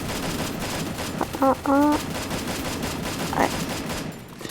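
Shotgun fire in the Free Fire video game comes as a quick cluster of blasts followed by a single later shot, loud and close over a steady game soundtrack.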